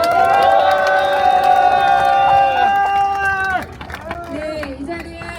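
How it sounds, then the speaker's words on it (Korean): An outdoor crowd at a political rally in a Gwangju park roars with long, sustained shouts that break off abruptly, followed by scattered whoops and cheering voices. "큰 박수 부탁드립니다"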